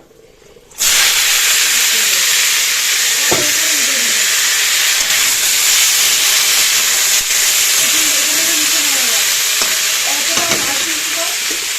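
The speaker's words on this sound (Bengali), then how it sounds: "তেলটা গরম হয়ে গেছে" Hot oil in a home kitchen pan bursts into a loud, sustained sizzle and hiss after a quiet moment, continuing steadily with occasional pops and faint clinks underneath.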